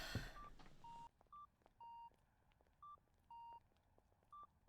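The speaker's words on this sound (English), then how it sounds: "we'll just listen to the beeping noise of this walking sign." Faint electronic beeps from a pedestrian walk signal repeat in a steady pattern of short and longer tones over quiet background, after a brief burst of noise at the start.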